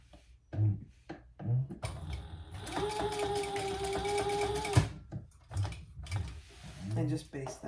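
A sewing machine basting fabric in place on a crossbody bag strap with a D-ring, running in a steady close mechanical whir for about two seconds, framed by fabric handling and soft bumps before and after.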